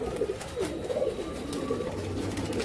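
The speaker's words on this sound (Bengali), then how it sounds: "তো ভাই এটা তো আপনার ছাতি ওল কবুতর।" A chati ol pigeon coos close by, a run of soft, throaty rolling calls repeating in a steady rhythm against faint background noise.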